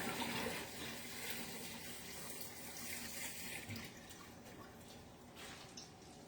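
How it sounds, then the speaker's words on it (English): Tap water runs steadily into a sink while a hand is washed clean of sticky goo in a home kitchen, making a continuous splashing flow that stays moderately loud and close throughout, with no talking. "Let me just wash off my hand from all the goofy goo."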